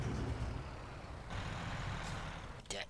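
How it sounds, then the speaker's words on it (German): An International LoneStar truck rolls out of a garage in American Truck Simulator, with a steady low engine rumble throughout, a shift in tone midway and a brief airy hiss near the end. "Wir wollen einfach jetzt hier mal rausfahren aus der Garage."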